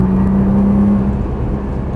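Nissan GT-R on a race track, its engine droning loud and close with a steady, slightly rising tone as power is applied between corners, alone without talk.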